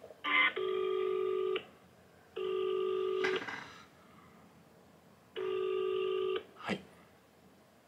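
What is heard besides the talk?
telephone line tones while bank call is being connected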